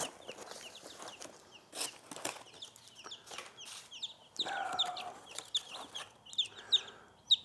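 Gold lace Wyandotte, blue lace Wyandotte and silver Sebright chickens cluck and peep nearby, with short repeated calls and chirps scattered over rustling and handling noises.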